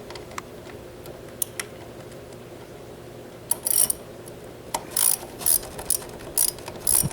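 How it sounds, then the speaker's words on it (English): A hand ratchet tightens a bolt while a Wind Cheeta unit is being installed, giving short bursts of sharp clicking in several quick strokes, fairly close and clear over a quiet background. "you take your ratchet"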